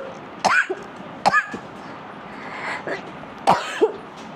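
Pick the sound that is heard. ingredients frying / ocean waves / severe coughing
severe coughing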